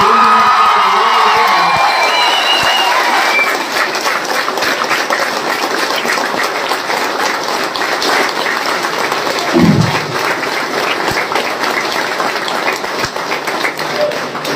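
A large political rally crowd for the leader of the Tamilaga Vettri Kazhagam party claps and cheers, with shouts and whoops over steady, dense applause that carries on throughout.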